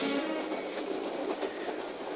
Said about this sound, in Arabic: ده القطر ده من غير سواق؟